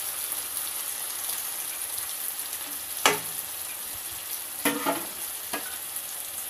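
Tomatoes frying in a pan for pav bhaji, a steady soft sizzle with a few sharp scraping stirs near the middle and end, heard close with no talking.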